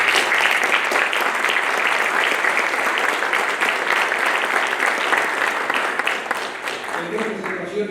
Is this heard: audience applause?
yes